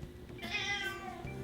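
A cat meows once, a drawn-out, moderately loud call close by in a quiet indoor room, with no one talking over it.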